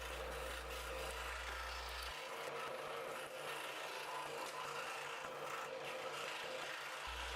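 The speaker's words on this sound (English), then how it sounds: "Scroll sawing is a pretty slow process, so I have the speed set to 6x here on the video." Scroll saw cutting through wood, sped up sixfold, giving a steady dense rasping buzz that runs unbroken throughout with a low motor hum underneath.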